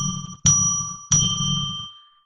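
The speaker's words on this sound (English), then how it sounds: "I'm now going to ring a bell 3 times to declare sacred space" A bell rung for a ritual, struck twice here with clear bright rings, each strike sharp and close and then slowly decaying, with the last tone fading out alone.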